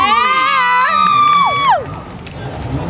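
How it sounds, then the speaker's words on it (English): Crowd cheering and whooping at a water show featuring a stand-up jet skier, with high sustained shouts and squeals that slide downward and fade, followed by a softer murmur of the crowd. "let's give one more round of applause for Rob Bartolomeone"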